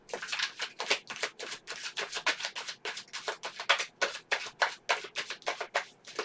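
Tarot cards are shuffled close up in a steady run of quick riffling bursts, about three per second, clear and alone with no talk.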